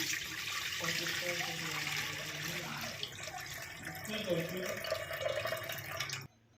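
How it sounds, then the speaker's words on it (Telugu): Water poured from a vessel into a cooking pot while making jowar ambali, a steady close gushing stream that runs for several seconds and then stops abruptly, with a voice speaking over it. "అంబల్ని కాస్తున్న గంజులోకి మనం ఈ వాటర్ని వంపుకుందాము"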